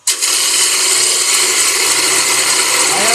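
A half-inch bowl gouge ground at 45 degrees, heel still on, cuts wood spinning on a lathe, making a loud, sustained bright scraping hiss with a fine chattering texture that starts suddenly and runs steadily throughout.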